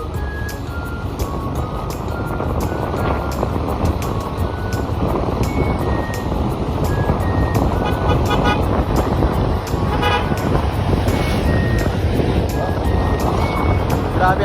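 Car driving along an open road in Sorsogon, a steady engine and tire rumble filling the cabin from start to finish, with a few short horn toots and high beeping tones poking through the road noise.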